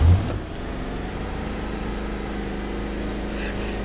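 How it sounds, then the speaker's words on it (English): Steady low engine drone of a forklift driving around in the burger-restaurant game Cook Burgers, continuous and fairly loud with no talk. "you see someone driving a forklift around"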